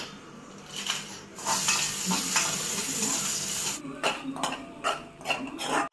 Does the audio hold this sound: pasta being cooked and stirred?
yes